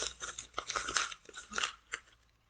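A sheet of paper crumpled by hand to imitate leaves crunching underfoot, giving a quick series of soft, dry crackles and crinkles, close and fairly faint.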